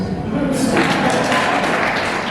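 An audience claps at a 2023 awards ceremony, a dense burst of applause that rises suddenly and carries on steadily, loud and close.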